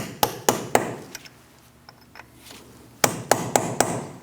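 A hammer drives a punch to unpeen the axle nut on a 2000-2006 Mini Cooper front CV axle, giving sharp metallic strikes in two quick groups of three to four blows, close and ringing, separated by a pause.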